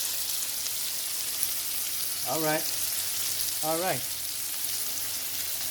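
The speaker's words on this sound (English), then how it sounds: "Just let it fry a little bit." Steak cooking slowly in a pan gives a steady broadband sizzle throughout, with someone briefly speaking twice over it.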